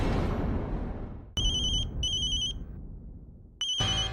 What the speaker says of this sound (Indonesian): Telepon dari kantorku.